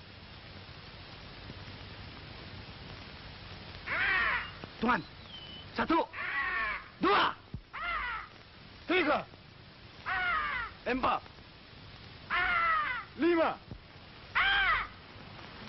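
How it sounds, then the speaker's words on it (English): A white peacock in the jungle calls repeatedly in loud, harsh bursts of roughly even spacing. Someone shouts a count over the calls, and rain hisses faintly underneath. "That was the call of the white peacock."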